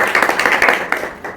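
Audience at a school Ambedkar Jayanti celebration clapping together for a teacher, a dense burst of hand claps filling the room, loud and close, with no talk over it.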